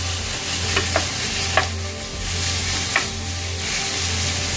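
Meat browning in a hot pan for a lasagne bolognese, a continuous close sizzle and spatter with a few sharp utensil taps scattered through it.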